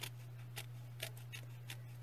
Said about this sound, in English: So I'm just kind of going underneath the piece of paper with my scissors to get it off.